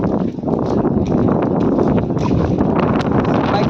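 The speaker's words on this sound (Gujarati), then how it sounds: "પવન એક નંબર આવે છે" Strong wind buffets the microphone in a loud, continuous roar with gusty rumbling, steady from start to finish, outdoors near Junagadh, Gujarat.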